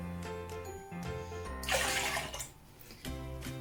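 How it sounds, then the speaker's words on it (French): Water pours into a mixing bowl while Turkish pide bread dough is being prepared, a bright splashing gush that starts suddenly and trails off within about a second, set among faint kitchen background sounds. "On va mettre l'eau."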